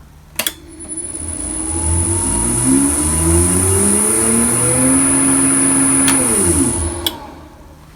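A drill press motor on jog: a clunk, then a whining tone that climbs in pitch, holds steady, and winds back down over several seconds before a final clunk, loud and close with a thin high whine above.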